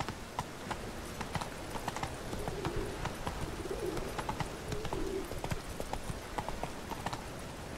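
Horse hooves clip-clop at a steady walking rhythm in The Witcher: Wild Hunt, amid rain and howling wind, with faint bird cooing in the background.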